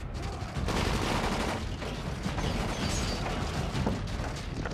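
Rapid bursts of gunfire in the zombie video game Dying Light, loud and continuous with dense overlapping shots filling the whole stretch.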